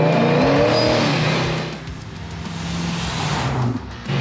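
A supercharged 1972 Pontiac GTO revs hard up close, its engine climbing in pitch, easing off, then building again with a brief tire squeal, loud throughout with no voices.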